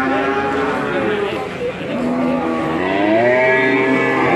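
A Simmental bull moos loudly and close in long, drawn-out calls that rise and fall, with other cattle lowing alongside in a livestock setting.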